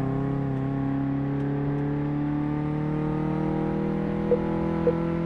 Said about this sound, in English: This engine is horrendous, and it took it all the way to the red line before it changed gear.